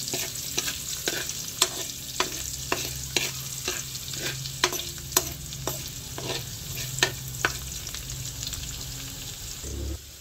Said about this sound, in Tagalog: Bali na ilagay ko na po yung bawang.